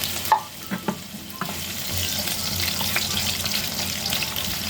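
Carrots and potatoes frying in oil in a pan, a steady close sizzle with a few clatters of stirring near the start, continuous and fairly loud with no voices.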